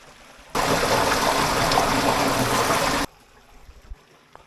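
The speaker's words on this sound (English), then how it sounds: "I can hear more flowing water" A rushing wash of stream water flowing through a gorge fills the middle stretch, steady and loud, then cuts away to quiet background with a few faint knocks.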